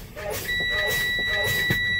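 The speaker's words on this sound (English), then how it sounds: "my low air warning light and buzzer has come on" A steady high-pitched electronic buzzer, a truck's low air pressure warning at about 60 psi, drones continuously over the rumble of an idling engine, with faint hissing and clicks beneath.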